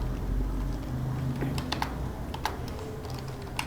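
Python code being typed on a computer keyboard, with quick, light key clicks in short irregular bursts over a steady low hum, close and fairly quiet.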